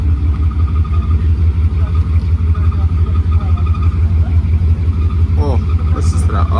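A 1957 Chevrolet Bel Air engine idles in a steady, deep rumble with an even low-pitched pulse, close by, with faint voices and small background noises on top.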